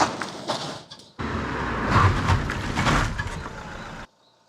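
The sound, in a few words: Fiat Panda 4x4 braking to a stop on standard tyres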